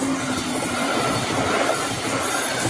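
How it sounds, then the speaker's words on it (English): A Brightline passenger train rushes past on the tracks in a loud, continuous roar of wheels and rail noise that fills the whole moment, with no voices. "Now, Brightline service is back up and running with trains going by."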